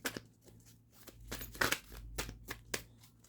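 Tarot cards being shuffled by hand, close up, in a run of quick papery riffles and soft slaps with short pauses between bursts, no talking.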